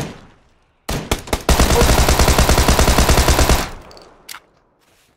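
PUBG video game gunfire: a few sharp single shots, then a long loud automatic burst lasting about two seconds, followed by a lone distant crack; a voice briefly exclaims.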